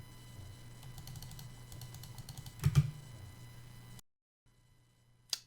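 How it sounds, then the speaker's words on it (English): Computer keyboard keys tap in a quick run of soft clicks, close and quiet, followed by a sharper cluster of mouse clicks, then near-silence and a final faint click. "if I click the mouse and press on the keyboard"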